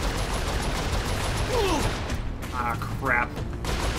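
Gunfire in the Saints Row 4 video game rattles through a dense, continuous bed of game noise, with a man's brief exclamation over it.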